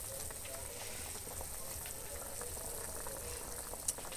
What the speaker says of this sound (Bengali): এবার টকটা একটু ভালো করে ফোটাবো